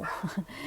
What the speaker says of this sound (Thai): ต้องขออภัยด้วยเกิดว่ามีเสียงหมาเห่านะฮะ